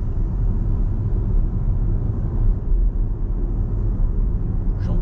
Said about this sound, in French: On a un petit peu de bruit de roulement, c'est normal parce qu'on a des pneus